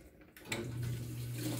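Washing machine under repair for a fill fault, with the water valve open: after a couple of clicks, water gushes in and runs in a steady, close rushing stream into the tub, with no talking.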